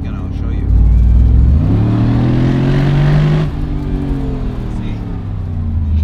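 A Mercedes SLR revs and shifts gears while driving, engine pitch climbing, dropping at each shift and climbing again, loud and close inside the car.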